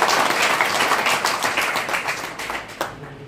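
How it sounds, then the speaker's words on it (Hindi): A crowd at a Rajasthani Ramlila event gives strong, dense applause, clapping steadily before thinning into a few last scattered claps at the end. "मनोज जी भाई साहब का वास्तव में तालियां होनी चाहिए"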